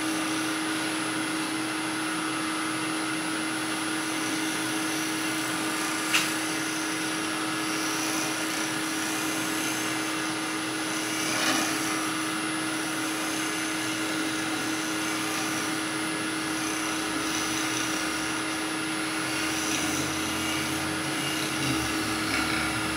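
A wood lathe spinning while a chisel shapes a kuksa cup, giving a steady mechanical whine with a constant tonal hum, close and even, marked by a few faint scraping cuts and no talking.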